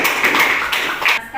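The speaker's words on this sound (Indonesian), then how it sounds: "Beri aplaus dulu untuk teman-teman." Classroom applause for classmates, a short patter of light claps from a group of students, fairly close and lasting only a moment.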